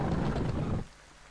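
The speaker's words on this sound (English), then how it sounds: "I hear the water flushing away." In a video game, loud rushing water flushes for under a second, then cuts off abruptly, leaving a quiet low rumble.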